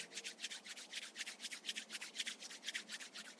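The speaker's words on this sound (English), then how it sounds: "Rub your palms together." Palms rubbed briskly together during a yogic breathing session, making a soft, rhythmic swishing of about a dozen quick strokes, quiet and close with no talking.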